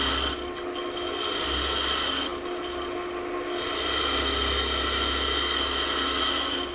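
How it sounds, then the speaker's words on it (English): A carbide roughing tool cuts red oak spinning on a wood lathe, a continuous close, loud rasping scrape with a steady motor hum underneath and brief dips in the cut, no talking. "You can see how it's just cutting right through that red oak"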